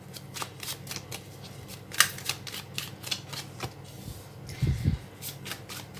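Tarot cards being shuffled up close, a quick series of crisp riffling flicks and taps with a couple of soft, low thumps near the end.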